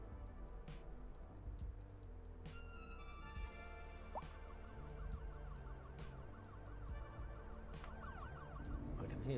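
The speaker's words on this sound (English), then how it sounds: "I can hear sirens." Wailing emergency vehicle sirens in Cities: Skylines II cycle up and down at a distance over a low rumbling drone, with occasional clicks and ticks.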